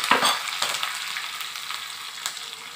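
Crushed garlic cloves fry in hot oil with a bright, steady crackle and sizzle, a few sharper pops near the start, close and alone with no voices.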